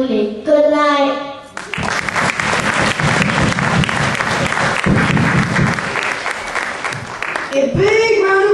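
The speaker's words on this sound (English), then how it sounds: "A big round of applause to our performers." Audience at a church show applauds performers after the closing number, a long dense burst of clapping rising sharply and holding steady, with voices speaking just before and after it.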